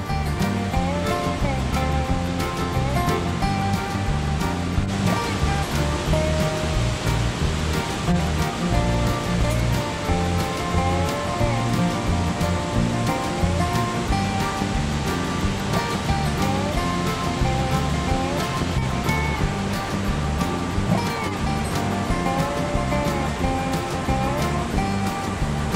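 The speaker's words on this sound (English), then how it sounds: "Join me now to see and feel the Banias waterfall." Banias waterfall pouring over black basalt rock in a narrow canyon, a loud, steady roaring rush of water that fills the whole stretch without letting up.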